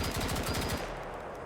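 Machine gun fire in the military shooter BRM5, a dense rapid burst of loud, close shots that tapers into a fading, echoing tail.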